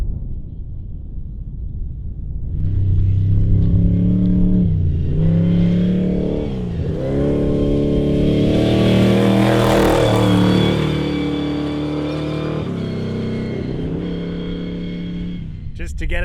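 Trophy race truck numbered 418 lapping a test track in the Australian outback, its engine swelling loud and revving as it comes closer, then holding a sustained roar before fading slightly, with voices faintly beneath.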